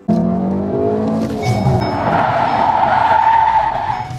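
Tires squeal and skid continuously as a car drifts under its electronic parking brake, a loud, sustained screech with engine noise underneath, running throughout without talk.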